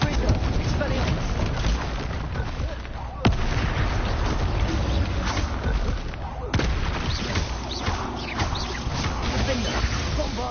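Explosive spell blasts, Confringo and Bombarda, burst in the wizarding game Hogwarts Legacy, with a couple of sharp loud cracks over a constant rumbling battle din, and a person talks throughout.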